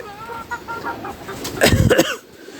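Sonali chickens on a farm cluck and call in a loose cluster, with a louder burst of squawking near the end, fairly close and without any talk over it.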